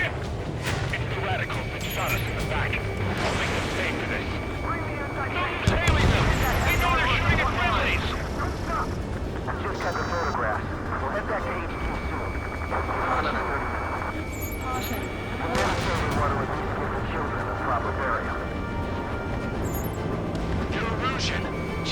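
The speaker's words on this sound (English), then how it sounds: "Jesus, they're firing at each other." Sustained gunfire and artillery rumble in Ace Combat 7, a dense battle din with repeated bursts and booms, one heavier blast partway through, continuing under voices talking throughout.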